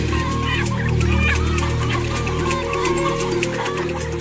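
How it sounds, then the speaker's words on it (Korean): Crowded, diseased factory-farmed chickens cluck and squawk loudly in a dense overlapping chorus as they are shoved into sacks, the agitated calls continuing without pause. "닭을 모조리 자루에 집어넣는다"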